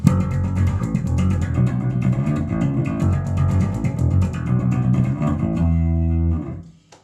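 An electric bass plays the verse line of a song up to tempo, a fast run of clear plucked notes with a strong low body, ending on a sustained note that fades out.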